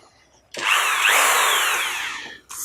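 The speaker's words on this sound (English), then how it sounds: "final polish is to buff them out with a polishing compound" A rotary tool loaded with green polishing compound buffs guitar frets, a loud high whine that starts suddenly, holds for about two seconds while easing off slightly, then cuts out and briefly restarts.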